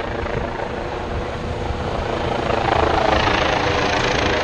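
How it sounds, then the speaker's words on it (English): Continuous heavy thumping roar of two helicopters, including a police helicopter, hovering overhead, loud and steady, swelling slightly louder toward the end. "2 police helicopters."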